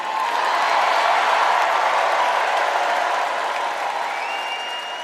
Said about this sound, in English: Huge applause break moment in the United Center.